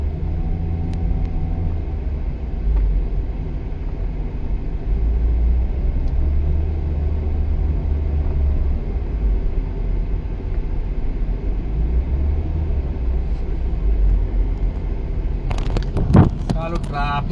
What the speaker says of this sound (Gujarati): ચાલો ટ્રાફિક જ બહુ છે.